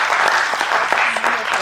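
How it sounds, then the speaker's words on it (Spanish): An audience applauds Nayeli at a degree seminar, a dense, steady burst of clapping from a roomful of people, close and fairly loud. "Aplausos a Nayeli."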